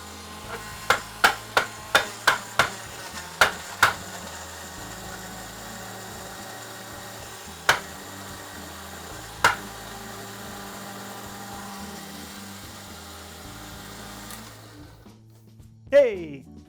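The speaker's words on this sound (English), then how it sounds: "It doesn't want to blend." An old 1980s blender with a strawberry daiquiri inside hums steadily and strains under load for about fourteen seconds. A run of sharp knocks comes at the start and a couple more follow later, then the motor cuts out and leaves near silence.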